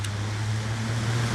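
Electric fan with a reworked, noisy motor running on its slow setting, giving a steady close low hum and whir with airy hiss, constant throughout.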